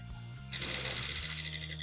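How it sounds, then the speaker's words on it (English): A sewing machine running a straight stitch along a shirt cuff, a steady fast mechanical whir that starts up and continues close and fairly quiet, with no talking. "Just going to run the straight stitch again."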